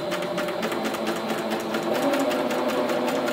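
A sewing machine runs continuously in reverse for a back stitch along a fabric seam, a steady close mechanical whir with rapid needle ticking.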